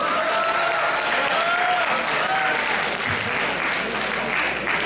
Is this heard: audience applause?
yes